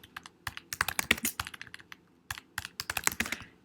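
Computer keyboard keys clack in quick uneven bursts, close and crisp, with a brief pause midway, while someone types code in the Swift programming language.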